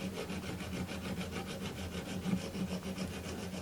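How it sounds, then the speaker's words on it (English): Steady back-and-forth rasping of a diamond file taking a burr off an air rifle part, close and even, with no voices. "with the diamond file, I'm just going to flap that down just to take the burr off it"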